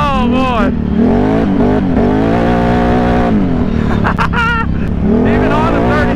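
Can-Am Renegade ATV engine revs hard on 33-inch tires at an ATV park, a loud, close whine rising and falling through repeated throttle surges, with a rider's voice shouting over it.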